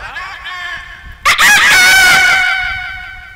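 A man imitates a rooster crowing, giving one loud, close, drawn-out cock-a-doodle-doo that rises sharply and then trails off slowly, after a few quieter vocal sounds at the start.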